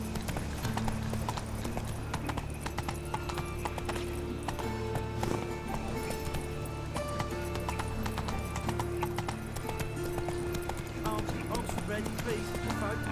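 Horse galloping in a race in The Witcher 3 video game, steady clip-clop hoofbeats with an occasional whinny, running continuously under game music and other sound effects, with voices talking over it.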